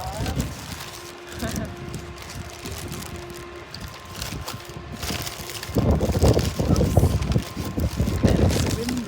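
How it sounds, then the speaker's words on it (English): Wind gusts buffet the microphone at an outdoor German train station, a steady low rumble that swells louder toward the end, with a voice speaking over it. "And it's windy."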